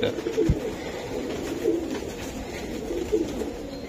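A racing pigeon being handled at a seller's place gives three soft, low coos spread evenly over a few seconds, close by, over a faint steady background hum.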